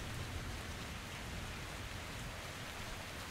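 Steady heavy rain in the video game Metro Exodus hisses continuously, a dense even downpour with a low rumble underneath and no voices.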